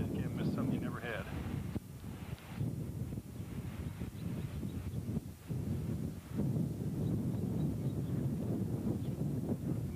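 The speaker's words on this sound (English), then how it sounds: "Windy, windy, windy." Wind gusts across an open Kansas farmstead, buffeting the microphone with a steady roar and uneven rushes that last throughout, while a person talks over it.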